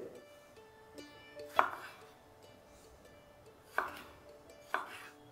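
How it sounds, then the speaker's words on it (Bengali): A knife cutting tomatoes into sixths: three crisp, separate strikes land on the board at uneven intervals over a quiet background with faint steady tones. "আমি এখানে 2টো টমেটোকে এইভাবে কেটে নেব। মানে একটা টমেটোকে আপনাদের 1/6 করে কেটে নিতে হবে।"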